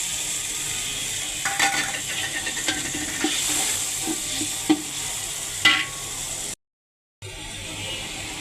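Chopped tomato goes into spices frying in a pan for bhuna khichuri, giving a steady close sizzle with a spoon scraping and clinking during stirring, then a brief cut before the frying resumes.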